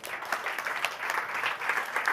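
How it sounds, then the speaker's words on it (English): A short burst of steady applause from a conference audience at a climate summit in London, many hands clapping at once, even and moderately loud throughout. "Give her a round of applause."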